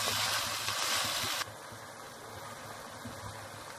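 Minced beef keema hitting hot ghee in a pan, giving a broad steady sizzle that is loud at first and drops to a softer constant frying hiss after a second and a half, with no talking.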